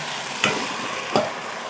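Ridge gourd and potato pieces frying in a pan, a constant close sizzle with two distinct scraping strokes of a spatula as they are stirred.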